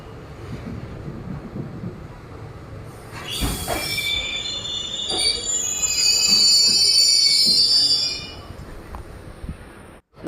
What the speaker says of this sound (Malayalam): നമ്മുടെ ട്രെയിൻ അങ്ങനെ ഇതപ്പം തിരുവനന്തപുരം റെയിൽവേ സ്റ്റേഷനിൽ നിന്നും പുറപ്പെട്ടിരിക്കുകയാണ്